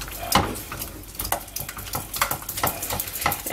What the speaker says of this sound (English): I want to give that a bit more of a stir.